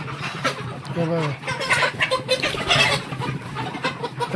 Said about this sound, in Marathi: कोंबड्या पळत आहेत